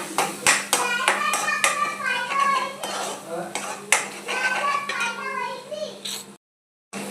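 Egg being stirred in a pan for egg Maggi, a utensil scraping and clattering against the pan in quick repeated strokes, loud and close, with faint frying underneath and a brief silence near the end.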